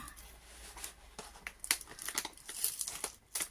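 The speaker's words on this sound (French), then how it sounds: "Je retire le scotch." Crinkly tearing and crackling bursts as tape is peeled off a package, irregular rips growing louder toward the end, fairly close and quiet overall.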